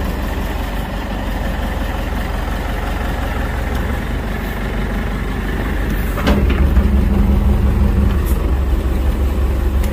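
A truck engine idles with a steady, loud low rumble that lifts slightly in level partway through, with a brief clank in the middle.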